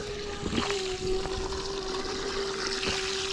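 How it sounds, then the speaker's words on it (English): Water pours from a tap into a container holding rusty trolling motor parts, a steady running trickle with a sustained tone and faint knocks underneath, close and continuous. "What I might do is just top this up with water and then dump them in there."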